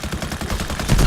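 Rapid bursts of gunfire in the video game Battlefield Heroes crackle loudly in a dense, continuous stream, with a heavier blast near the end.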